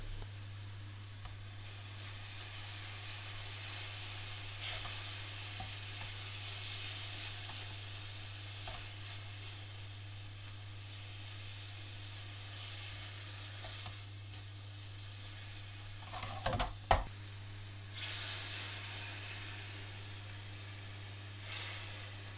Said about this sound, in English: Add in the chopped tomatoes, stir through, then add half of the heated up base gravy.